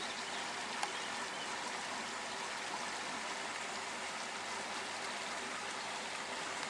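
A babbling brook runs past a garden that slopes down to Aberbach Beach on the Pembrokeshire coast, giving a steady, even wash of flowing water with no pauses or voices.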